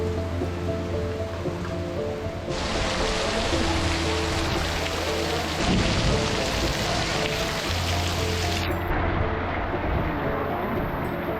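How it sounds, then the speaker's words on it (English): Steady heavy rain pours down in Hoi An, Vietnam, in a dense, hissing wash that continues unbroken, with a low rumble underneath at times. "That was a downpour. That was ridiculous. The rain was so heavy."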